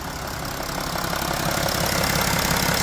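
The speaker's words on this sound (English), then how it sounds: "You can hear it's idling great." A car engine idles steadily, a continuous low rumble and hum that holds even and unbroken throughout, with no voices.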